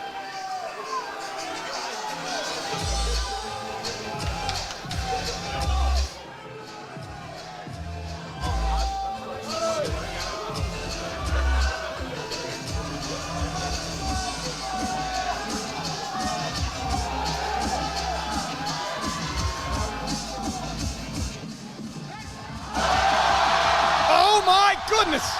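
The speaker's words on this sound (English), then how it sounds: "Got the support of the crowd. Chanting Penna, trying to will him." A loud crowd at a Sheffield powerlifting meet cheering, shouting and chanting for the lifter Penna during his attempt, a continuous roar with yells, rising sharply near the end, while commentators talk over it.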